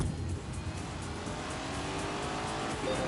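Race cars launching at the start of a race in The Grand Tour Game video game, a steady, loud roar of engines mixed with tire noise, continuous throughout.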